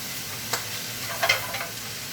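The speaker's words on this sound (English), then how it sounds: "Coating cabbage with that bit of butter that was in there." Cabbage stirred and coated in a little melted butter in a pan, giving a low, steady sizzle broken by a few soft scraping stirs close by.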